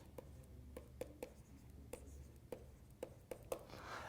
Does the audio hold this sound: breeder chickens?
no